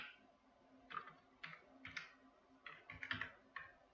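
Computer keyboard typing while entering a named range in an Excel spreadsheet: a close, irregular run of light key clicks in short bursts, with no talking over it.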